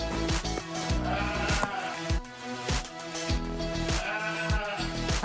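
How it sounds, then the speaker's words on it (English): Sheep on a Kentucky farm bleat repeatedly and loudly, several animals calling in overlapping wavering cries close by, with steady outdoor noise beneath. "There's definitely some sheep over here."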